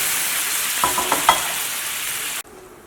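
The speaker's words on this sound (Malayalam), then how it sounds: "ഞാൻ വെളുത്തുള്ളിയും പിന്നെ ചുവന്നുള്ളിയും കൂടിയിട്ട് മൂപ്പിച്ച് മഞ്ഞൾപ്പൊടിയും പിന്നെ മുളക് പൊടിയും ചേർക്കും" Garlic and shallots fry with turmeric and chili powder in a nonstick pan, giving a steady close sizzle with a few stirring scrapes, then the sound cuts off abruptly near the end.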